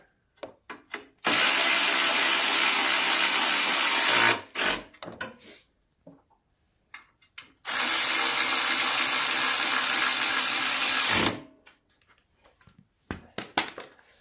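A power drill or driver runs in two sustained bursts of about three seconds each while bolts are tightened down on the carburetor of a Troy-Bilt 179cc snowblower engine. Short clicks and clatter of handling fall between the runs.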